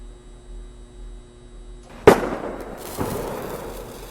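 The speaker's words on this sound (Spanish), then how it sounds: "Disparé la bengala" A flare gun fires with a single sharp, loud pop, followed by a whooshing burst and hiss that trails off, over a low steady electrical hum, with no voices.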